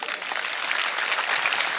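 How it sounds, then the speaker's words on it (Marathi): An audience at an Ambedkar Jayanti speech applauds for Babasaheb, a dense, sustained wash of clapping from a large crowd that holds steady and fairly loud for the whole stretch without any speech. "टाळ्या बाबासाहेबासाठीच होत्या एकदा."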